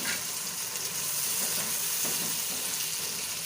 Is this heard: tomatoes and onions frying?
yes